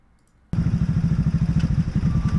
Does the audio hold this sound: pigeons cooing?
no